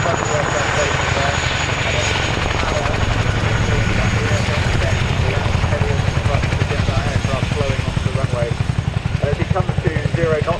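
A helicopter landing as part of an airshow display, its rotor chopping steadily and loudly throughout while a commentator talks over it.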